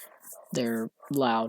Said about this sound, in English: I'm sorry if you can hear my dogs barking in the background